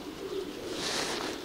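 A racing pigeon coos softly in a loft, one short, low, throaty call heard close with no voices over it.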